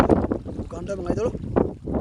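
Strong wind buffets the microphone by the sea from a boat or shoreline, heavy low rumbling gusts that rise and fall in bursts, with a voice speaking partly under the noise.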